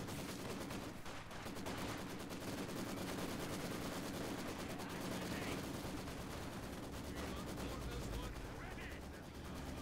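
Dense machine gun and rifle fire in a World War II video game tank battle, a continuous loud crackle of rapid bursts throughout, with a commentator talking over it.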